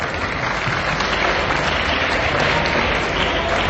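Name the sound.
audience applauding at festival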